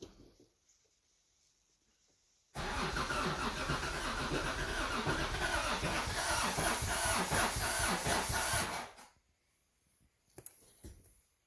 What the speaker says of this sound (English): I don't know that I loved the way that it sounded while it was turning over